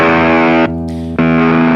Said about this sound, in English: It sounds a lot tighter on the Roadkill, the SG does.